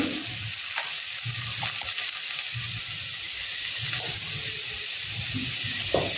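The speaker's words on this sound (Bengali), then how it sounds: "একটু আলুটা ভেজে নিয়েছি।" Potatoes frying in a pan with salt and turmeric, a steady soft sizzle running throughout with faint stirring and scraping touches, close and continuous with no talk.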